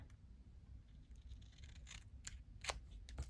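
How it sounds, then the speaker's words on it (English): Scissors snip through paper for a budget junk journal, a few short crisp cuts close by and fairly quiet, the last snip sharper than the others. "use it as a template and snip it again"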